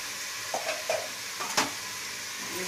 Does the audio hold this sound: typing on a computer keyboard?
no